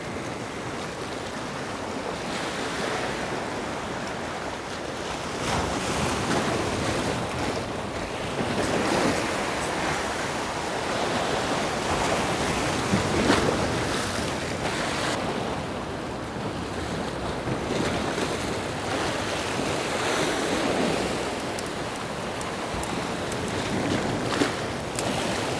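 High sea waves roll and crash continuously under strong wind off a fishing spot near an island, a dense, loud roaring wash with gusts of wind buffeting the microphone.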